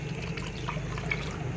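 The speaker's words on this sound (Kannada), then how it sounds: "ಇನ್ನೊಂದು ಸ್ವಲ್ಪ ನೀರು ಹಾಕಿ" Water trickles and splashes softly and continuously over a low, steady hum, with faint dripping sounds, as water is poured onto wood apple pulp and seeds while making a cooling fruit drink.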